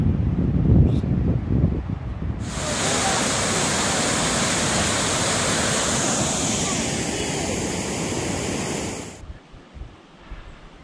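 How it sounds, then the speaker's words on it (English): Water runs through rocks at mountain springs along a creek slope in Glacier National Park, heard as a steady, loud rushing hiss close by that cuts off abruptly near the end, with faint movement after. "I think there's some water running through the rocks here."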